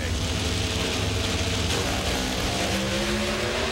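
Pro Stock drag racing cars roar off the line in the final at the NHRA Auto Club Finals, a loud dense engine blare rising in pitch over a brief moment.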